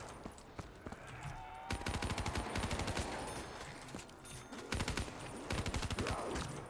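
Rapid automatic gunfire from a Doom video game map rattles in dense bursts with short pauses between them, loud and close, mixed with other game effects.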